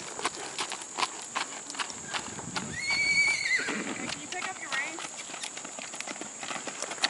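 An Appaloosa mare, about 15 years old, whinnies once in the middle of the clip, over steady hoof clopping and a constant high electrical whine, with faint voices in the background.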